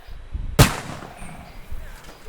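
Cannon fire in a medieval battle in Kingdom Come: Deliverance 2, one loud, sharp boom near the start that rumbles off under background battle noise.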